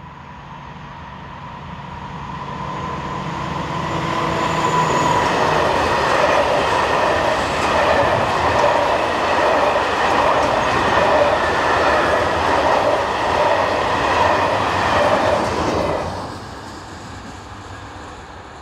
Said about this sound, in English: The train is worked by VFLI Vossloh G1206 diesel number 1740.